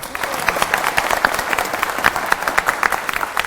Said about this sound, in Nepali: सुपुत्रको लागि ताली बजाइदिनु न